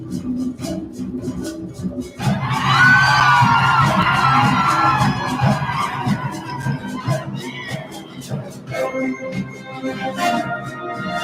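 A group of band students screams and cheers together in a rehearsal, loud broadband yelling swelling up after a couple of seconds and holding, then giving way to softer shouts and instrumental sounds near the end.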